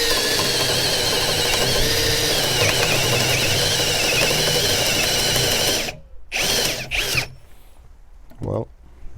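Parkside 20V brushless cordless drill (PABSP 20-Li C2) boring with a 32 mm bit, a loud steady grinding whine for about six seconds before stopping abruptly, followed by a few short handling knocks.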